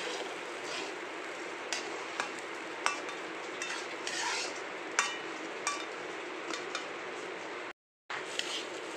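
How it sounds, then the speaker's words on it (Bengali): A spoon stirs fried rice with sugar and raisins in a wide wok, giving soft scrapes and light clinks under a low steady background, close and fairly quiet, with a brief dropout near the end. "আর দিয়ে দিলাম কিশমিশ দিয়ে এবার এটাকে এভাবে আরও 5 মিনিট এভাবে নাড়তে হবে"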